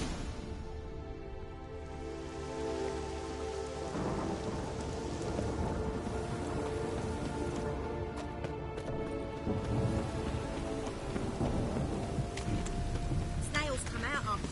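Rain and rolling thunder in The Witcher video game, a steady wash of rainfall with low rumbling thunder swelling midway, heard beneath a character's voice at moderate distance.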